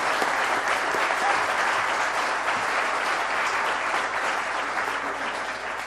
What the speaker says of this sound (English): Thundering applause.